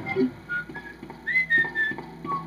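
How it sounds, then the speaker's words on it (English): Whistling during Resident Evil 2 gameplay: a few short, airy whistled notes that waver and glide upward, moderately loud over a low, steady background hum. "You got somewhat of a whistle."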